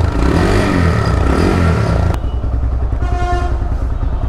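A TVS Raider motorcycle engine runs loud and close, a dense rough drone that shifts in tone partway through, with some mechanical clatter.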